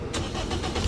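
An off-road vehicle grinds slowly through a Siberian bog, its engine a steady, close rumble with broad churning noise that holds for a single second and swells slightly at the end.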